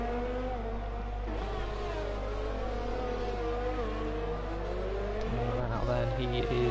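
Onboard engine of a Ferrari race car in the F6 class of a racing video game at Singapore, a steady high droning whine rising and falling through gear changes, under continuous commentary.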